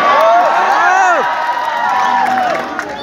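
Audience at a poetry recital on the Bundelkhand University campus in Jhansi cheers and whoops loudly, a dense continuous crowd roar with shouts running throughout.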